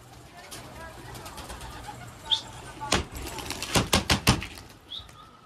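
Fancy pigeons shuffle and flap in a loft, with a burst of close wing claps and scattered chirps over a low background while people talk quietly nearby.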